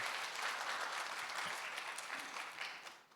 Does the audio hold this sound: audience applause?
yes